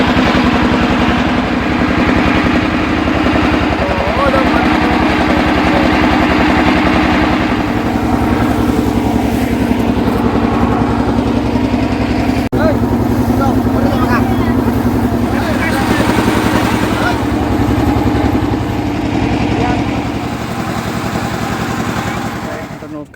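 Engine trawler boat motoring along the river toward Lalakhal in Sylhet, a loud steady droning engine running for the whole stretch with constant hum and wind rushing over the microphone.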